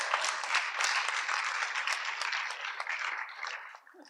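Conference audience applauding, a steady wash of many hands clapping that holds for several seconds and then begins to fade.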